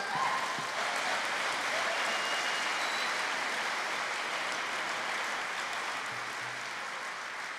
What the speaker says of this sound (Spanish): Le damos un aplauso al rey por eso,